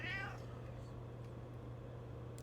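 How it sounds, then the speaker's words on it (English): A cat meows once, a short rising cry close to the microphone, followed by quiet room hum. "The cat agrees."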